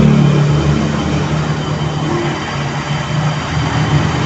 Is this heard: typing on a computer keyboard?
no